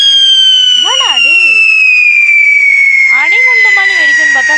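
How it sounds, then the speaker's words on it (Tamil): A firecracker in the Diwali Simulator video game gives off a loud, continuous siren-like wail that slowly falls in pitch, with two bursts of warbling, chirping sweeps laid over it. "அடிகுண்டு மாதிரி வெடிக்குன்னு பார்த்தா சைரனு"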